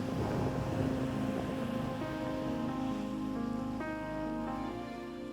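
Rough sea waves wash against the shore at Shrivardhan on the Konkan coast in the evening, making a steady, continuous roar with faint tonal sounds layered over it.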